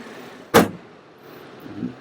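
The door of a 2024 BMW 330e plug-in hybrid sedan shuts with a single close, dull thud that does not latch fully, followed by quiet surroundings.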